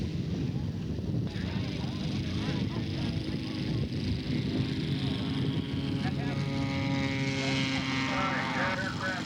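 A radio-controlled scale Supermarine Spitfire model plane powered by a Moki 1.8 engine drones steadily and loudly, its pitch rising near the end, with a voice talking over it.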